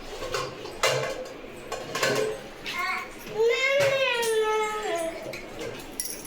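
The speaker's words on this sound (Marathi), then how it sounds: "शाळेतून आले तर आधी आले ना भांडी काढायला लागले" Metal pots and pans clatter and clank in a home kitchen as children pull them out, with a few sharp knocks and children's voices talking throughout.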